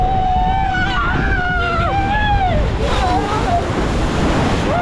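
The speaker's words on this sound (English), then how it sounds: "Bumpy cars on water." A safari vehicle drives through water on the Kilimanjaro Safari ride at Disney's Animal Kingdom, with a broad rushing splash and wind noise underneath excited voices and whistling tones.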